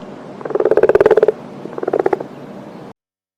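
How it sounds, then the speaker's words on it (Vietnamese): Frog croaking in two bursts of rapid, rasping pulses, the first longer and louder, then a short pause and a quieter second run, heard clearly on its own in a children's animal-sounds lesson. "Con ếch."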